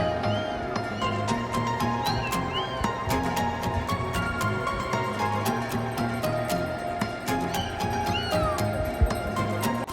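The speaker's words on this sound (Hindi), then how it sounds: "दूध पीने के बाद भी ये मियाँ मियाँ कर रहा है।" Rescued kitten meowing repeatedly after drinking milk, its high cries rising clearly above a steady, busy background.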